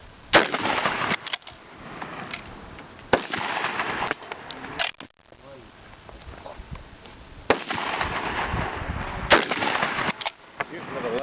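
Gunshots ring out at an outdoor shooting range, several sharp loud cracks spaced a few seconds apart, some landing in close pairs, while people talk quietly between shots.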